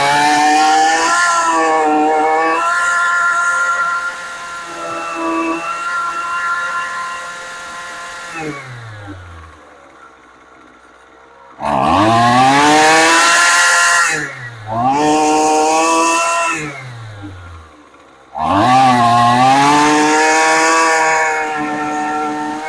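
After a carburetor adjustment, a small engine revs to a loud, high buzzing whine, drops back to a low idle, then goes through several hard throttle bursts, each rising and falling in pitch, very close.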